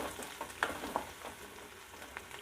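Curry leaves sautéing in hot oil for an okra side dish give a soft, steady sizzle with a few sharp pops and crackles, close and fairly quiet, with no talking.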